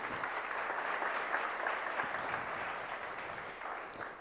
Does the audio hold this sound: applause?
yes